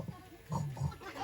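A child imitates a pig with short nasal oinking grunts, two or three close, loud snorts in quick succession.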